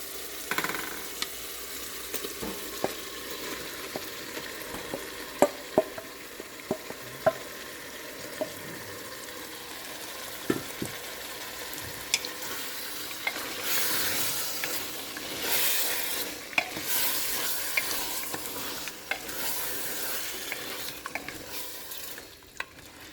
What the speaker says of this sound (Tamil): நாங்கள் மேரினேட் பண்ணியிருக்கிற சீ ஃபுட்டை போட போகிறேன்